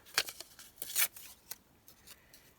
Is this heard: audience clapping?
no